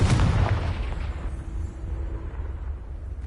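A Confringo explosion spell in Hogwarts Legacy: one loud, deep blast at the start that rumbles and fades away over a few seconds.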